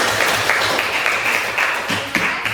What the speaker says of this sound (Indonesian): tepuk tangan dulu untuk Nur Sakina